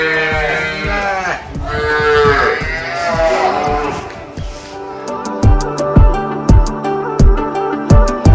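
Cattle at a cow shelter in Jorhat, Assam low repeatedly, with several loud, close, drawn-out moos overlapping and then short rhythmic calls toward the end.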